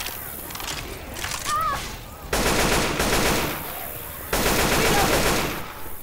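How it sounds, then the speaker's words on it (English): Rapid bursts of automatic gunfire in Left 4 Dead 2, aimed at zombies at the Dark Carnival, come in two long sustained volleys after a short gap, loud and close, with brief game noises before them. "Shoot the zombie."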